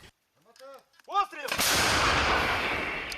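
Frontline artillery fire: after a brief faint murmur of voices, a single heavy boom erupts and rolls out into a long, loud rumbling echo that fills the rest of the moment.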